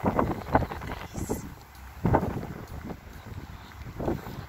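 Gusty wind buffets the microphone in rough, uneven bursts during a snowstorm in Moscow, blowing snow along, rising and falling with a rushing hiss in the background.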